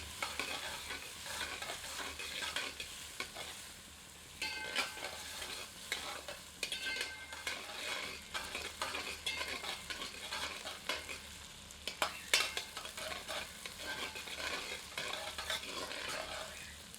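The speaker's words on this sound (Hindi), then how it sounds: "प्याज को तब तक भूनते हैं जब तक कि प्याज सुनहरी नहीं" Steady sizzling and crackling of onions frying in a copper lagan, with occasional stirring scrapes, fairly quiet and close, no talking.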